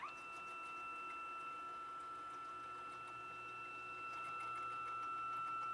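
A CNC machine jogging along its Y axis gives off a steady mechanical whine with a faint grinding, rattling undertone, continuous and fairly quiet throughout.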